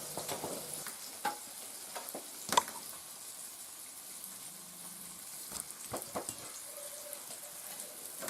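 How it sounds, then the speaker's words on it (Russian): Soft, steady sizzling of grayling fish frying in hot oil in a pan, with scattered pops and clicks, fairly quiet and without talk. "Масло прямо аж кипит в масле"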